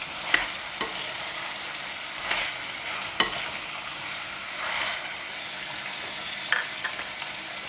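Chicken and mushroom stir-fry in a hot claypot, giving a steady close sizzle broken by occasional sharp scrapes and knocks of the stirring utensil, with no speech.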